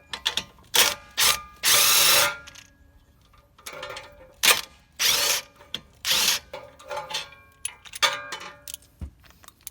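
A ratchet and impact wrench working a broken bolt on an 8th-gen Honda Civic Si suspension, with loud bursts of impact hammering between quieter clicking ratchet turns and pauses.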